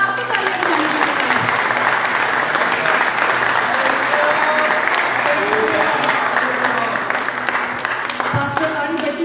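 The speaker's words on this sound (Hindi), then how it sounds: "क्वायर के लिए भी बहुत ज्यादा तालियां" A church congregation at a live worship meeting in Budapest gives sustained applause for the choir and musicians, dense continuous clapping with voices and cheers mixed through.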